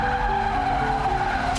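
A car skids and strikes a player in a Roblox horror game, a loud steady screech of tires sustained through the moment with a brief bright burst at the end.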